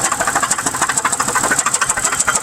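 Supercharged engine of a 2001 Pontiac Grand Prix GTP with a blown motor idles roughly, a steady mid-pitched drone with a rapid, regular knocking tap running through it, close and fairly loud, with no talking.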